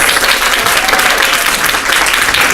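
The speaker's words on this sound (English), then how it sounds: "Let's give Shon a big round of applause" Audience applause closes a university talk on free speech, a dense, steady wash of clapping from a full room lasting a few seconds at strong, even loudness.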